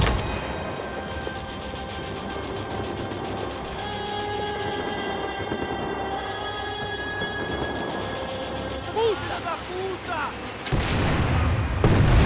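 Dense, continuous gunfire rattles through a Max Payne 3 shootout, a loud, sustained barrage over rumbling background noise and a low drone, rising into heavier bursts near the end.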